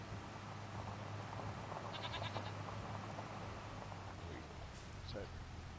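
Goats in Farming Simulator 25 bleat a few times, mid-distance, over a steady low farm ambience with faint rain-like noise and a voice talking through it.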